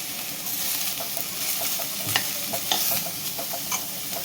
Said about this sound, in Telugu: మూకుల్లో నూనె వేడి చేసి అందులో ఈ కమలాపండు తొక్క